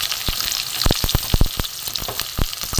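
Mixed winter vegetables, pumpkin, potato, eggplant, cauliflower and carrot, dropped into hot oil in a pan for a vegetarian curry, giving a loud, close, continuous sizzle punctuated by sharp crackles and pops.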